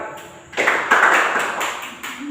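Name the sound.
class clapping hands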